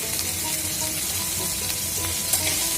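Okra frying in a pan with salt and turmeric, giving a steady, close sizzle and crackle throughout, with a few soft stirring scrapes and no talking.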